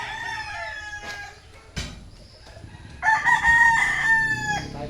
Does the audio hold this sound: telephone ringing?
no